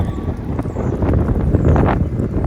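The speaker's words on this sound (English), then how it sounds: "Sorry, it's super windy here today." Strong wind gusts buffet the microphone with a heavy, continuous roaring rumble.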